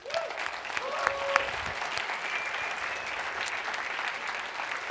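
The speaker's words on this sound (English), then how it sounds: "all of the contestants, give them a round of applause" Audience at a seminar event giving the contestants a round of applause, a dense continuous clatter of many hands at even loudness, with a few raised voices mixed in.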